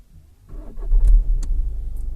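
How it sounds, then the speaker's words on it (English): A 2016 VW Passat fitted with a Starline immobiliser cranks and fires up, a brief starter whir followed by the engine catching and settling into a low, steady idle close by. "So basically now if we jump in and start it,"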